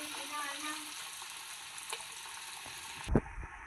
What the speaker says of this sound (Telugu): ఇప్పుడైతే ఆయిల్ వేడైపోయింది కాబట్టి నేను వేసుకుంటున్నాను